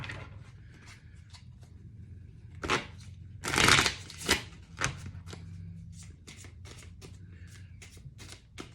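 A deck of tarot cards is shuffled and handled up close, a series of sharp riffling bursts and flicks, the loudest in a quick cluster early on, then lighter repeated snaps against a quiet room.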